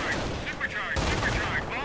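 Gunfire and bombardment in the Company of Heroes strategy game, a short, dense stretch of rapid shots and blasts, loud and close, with a sharp burst about halfway through.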